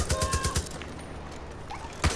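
Far Cry New Dawn gun firing a rapid burst of about five loud, close shots in the first half-second, a quieter stretch, then a single sharp shot near the end.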